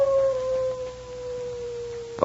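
A single long wolf howl from a radio drama sound effect holds one steady, slightly falling tone. It is clear and fairly loud, with nothing else beneath it until a brief noise at the end.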